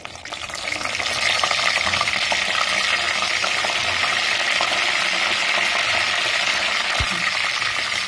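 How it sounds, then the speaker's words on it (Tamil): Green chili and curry leaves dropped into hot oil already popping with mustard seeds, urad dal and fenugreek, a loud steady sizzle that swells after the first second and holds on without talk. "இப்போ வந்து பச்சை மிளகா ஒன்றும் கொஞ்சமாக கருவேப்பிலையும் போடுறேன்"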